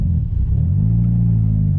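A car engine idles steadily right after a cam sensor replacement, a loud, close, low rumble holding for a couple of seconds while the engine runs rough and threatens to die.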